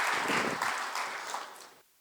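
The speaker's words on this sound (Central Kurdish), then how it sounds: "فەرموون چەپڵەکانتان" Audience applause at a poets' gathering, a dense burst of many hands clapping that holds steady for almost two seconds, then tapers and cuts off abruptly.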